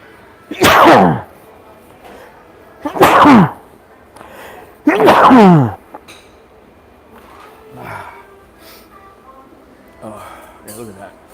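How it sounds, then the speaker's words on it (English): A person sneezes three times in quick succession, each burst loud and close, followed by quieter sniffs and breathing with no speech. "I got to sneeze."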